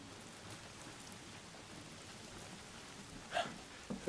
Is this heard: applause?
no